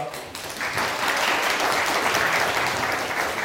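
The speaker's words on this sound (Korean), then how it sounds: "인사하는 박수 함께 하겠습니다" A church congregation in The Hague claps steadily, the applause swelling quickly and holding at a fairly even level throughout.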